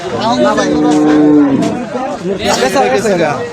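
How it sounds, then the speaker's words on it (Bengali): A cow moos loudly and close by at a Qurbani cattle market in Tangail, one long drawn-out low call, followed by the murmur of people talking nearby. "বাহ সুন্দর একটা গরু"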